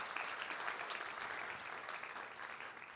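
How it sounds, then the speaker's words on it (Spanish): Faint, distant applause from a church congregation during a Spanish-language sermon, steady crowd clapping that tapers off slightly toward the end. "¿Cuántos le pueden dar un aplauso a Él?"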